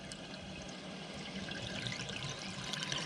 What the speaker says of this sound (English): it will just continue to run into the toilet, causing that water to just run and run and run